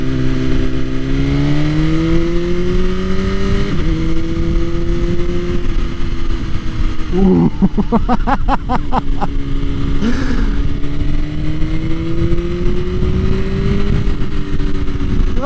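A 2021 BMW S1000RR fitted with an Akrapovic Evolution exhaust idles loudly up close, then gives a few sharp revs that rise and fall, with a brief exclamation from a person partway through.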